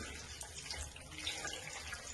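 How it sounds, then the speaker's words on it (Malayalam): Water poured into a pressure cooker holding salted food for cooking, a faint, steady trickling and splashing that runs for about two seconds with no voices. "അതിലേക്ക് പാകത്തിന് വെള്ളം കൂടി ഒഴിച്ചു കൊടുക്കാം"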